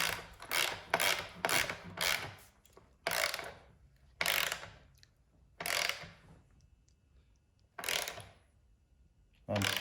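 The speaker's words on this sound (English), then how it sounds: "Then I take and put the nut on the front stud. Tighten it up." A nut being hand-tightened onto the front stud of a ski through plastic gives a series of close, crisp ratcheting clicks in separate bursts with pauses between them.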